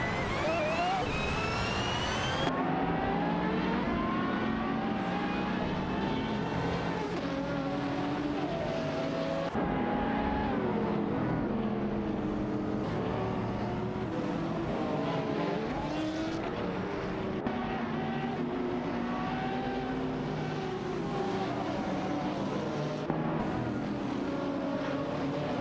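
Race cars accelerating in the AI Supercars racing game at Fuji, engines revving and shifting in overlapping rising whines throughout, loud and steady with a commentator talking over them.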